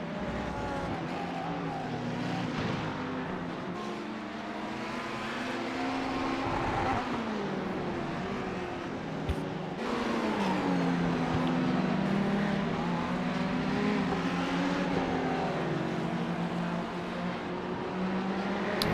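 Simulated race cars circle a virtual track during a cold-tire qualifying session at the NJMP Thunderbolt airfield course, steady engine drone with shifting pitch and an occasional louder car sweeping past, continuous throughout.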